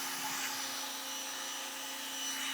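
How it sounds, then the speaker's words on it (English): A CAT pressure washer rated 2200 psi and 1.2 gpm sprays into a bucket, making a steady, loud hissing rush with a constant motor hum underneath and no talking. "We're going to point the pressure washer into the bucket for 1 minute."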